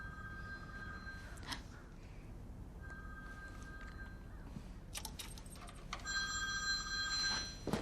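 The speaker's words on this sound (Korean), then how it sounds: "애니는 곧바로 니콜에게 네 전화를 걸어보는데" A phone rings on an outgoing call inside a house in a horror film, with repeated ring bursts at a steady rhythm over a dark, humming background.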